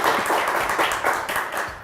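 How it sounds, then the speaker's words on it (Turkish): Studio audience applause on a televised word game show, brisk clapping from a crowd with a few louder pulses, fairly close and steady, tapering slightly toward the end. "Alkışlar Simay Hanım için"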